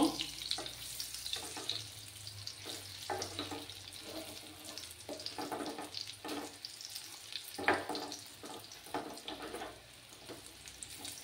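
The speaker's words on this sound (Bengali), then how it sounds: "একটু লাল লাল করে ভেজে নেব এটাকে আমি।" Egg and onion snack fries in a pan with a steady, soft sizzle, broken by occasional scraping and turning clatters, with no talking over it.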